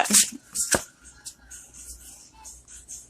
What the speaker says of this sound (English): Let me shuffle all the way first